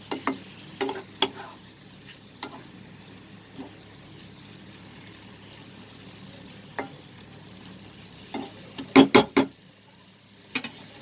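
Chicken in a pan over a low flame sizzles quietly while a spoon stirs it, with a few sharp scraping clatters scattered through and a cluster of louder knocks near the end.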